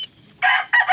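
Two short, loud bursts of rooster clucking after a quiet start, close to the listener.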